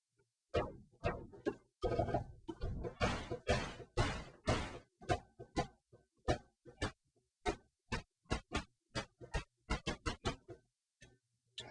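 Short noise-burst snare hits from the noise generator of a Moog Rogue analog synthesizer, played alone as a quick irregular run of sharp, crisp percussive bursts, some clustered and some spaced apart.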